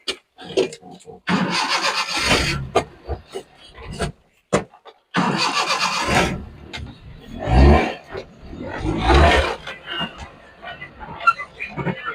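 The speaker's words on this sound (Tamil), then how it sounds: "வண்டியை ஒரு மூமெண்ட்டும் நாம் ஓட்டியும் காமிச்சிடறோம் பாருங்க" A Maruti Omni van's engine is cranked and catches, then idles and revs in bursts, with someone talking between the engine sounds.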